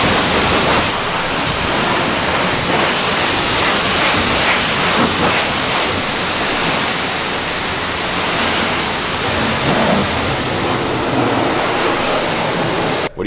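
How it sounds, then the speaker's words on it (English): A pressure washer rinses salt off a 1987 Peterbilt big rig, giving a loud, steady, broadband spray hiss that runs unbroken for the whole stretch with no voices. "so you have to like kind of give it a quick rinse"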